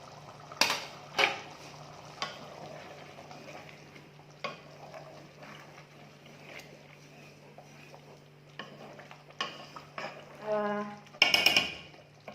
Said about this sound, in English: You're going to reduce your heat and let them cook together at a really low heat.